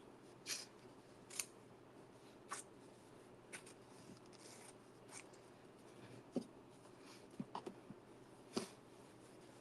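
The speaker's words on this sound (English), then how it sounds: "I'm just using my fabric scissors to cut this piece off" Fabric scissors snip through denim fabric in a series of distinct close cuts, spaced irregularly over a quiet background.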